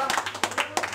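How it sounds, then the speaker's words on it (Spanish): A small group clapping in short bursts, three or four quick uneven flurries of hand claps at moderate distance, with voices mixed in. "Un aplauso para mí."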